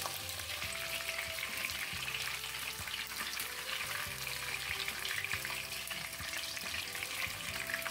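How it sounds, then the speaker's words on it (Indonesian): Jengkol frying steadily in hot oil in a pan, a dense continuous sizzle with soft knocks and scrapes as the pieces are turned over again and again. "Digoreng tidak perlu terlalu lama, cukup sebentar saja, dibolak-balik terus seperti ini."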